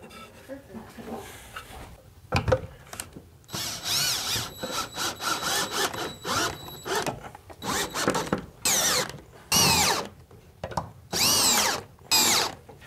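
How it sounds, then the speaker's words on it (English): A power drill drives screws to fix a drying rack onto the side of a barn, with repeated loud whirring bursts of a few seconds each separated by short pauses, and a person talking between them. "So I'm gonna screw this on the barn"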